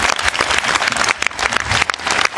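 Audience applause at a Danish family party show, dense clapping from a crowd filling the whole stretch loudly and steadily, with brief swells and dips.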